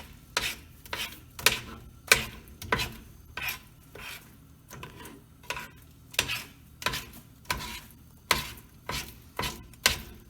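Homemade Play-Doh mixture stirred in a pot with a thick, stiffening consistency, giving a steady series of short scraping, rasping strokes at a regular rhythm, close and fairly quiet, with no talking.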